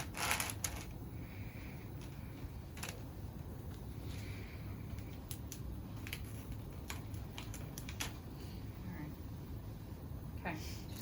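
Crinkling and crackling of sterile glove packaging being slowly peeled open during a trachea dressing change, with scattered sharp rustles and clicks over a steady low room hum.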